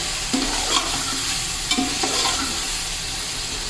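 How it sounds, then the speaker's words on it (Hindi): About a kilogram of chicken fries in a pan for pulao under a steady, loud sizzle, with a few soft scraping strokes from the stirring spoon. "ये देखें चिकन डाल के भी मैंने थोड़ा भून लिया है इसको।"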